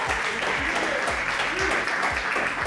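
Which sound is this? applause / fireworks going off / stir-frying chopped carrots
applause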